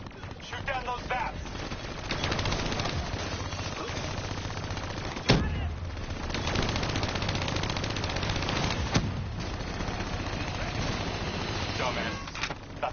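Video game gunfire tears into enemy VAPs in sustained bursts of rapid shots, with a couple of sharper, heavier blasts standing out; the shooting stays loud and dense throughout while a voice talks over it.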